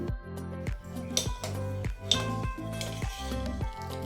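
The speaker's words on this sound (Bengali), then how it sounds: "পায়েসটা বসিয়ে আমি বারবার এসে নেড়ে দিয়ে যাচ্ছি" Payesh (rice pudding) is stirred in a pot with a spoon, giving a steady run of rhythmic scraping and clinking strokes, close and moderately quiet, with no talk.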